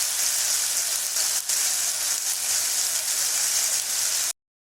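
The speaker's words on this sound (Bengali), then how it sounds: "ভালো করে ভেজে দেব।" Onion, spice mix and turmeric frying in oil in a pan for street-style ghugni, giving a steady, close sizzle and crackle with no talk over it.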